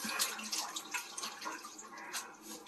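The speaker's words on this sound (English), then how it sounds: "So I'm putting them in cold water bath." Water splashing and sloshing as freshly blanched wild grape leaves are pushed around in a cold water bath in a basin, steady wet rustling with small drips, close by.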